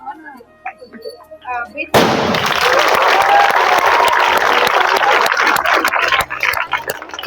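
A sudden loud firecracker burst kicks off, followed by sustained, dense clapping and crowd noise that carries on for several seconds at a martyrs' memorial; voices are heard beforehand.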